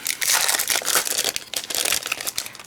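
Paper craft pieces for a birdhouse project being cut out, producing close, busy crinkling and rustling of paper in quick bursts with short pauses, no talking.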